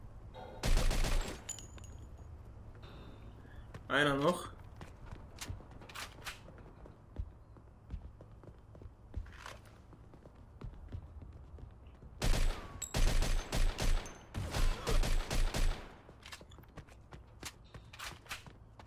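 Gunfire in the video game Mafia II comes in several sharp volleys and bursts, with a long rapid cluster near the end, while someone speaks briefly over the game sounds.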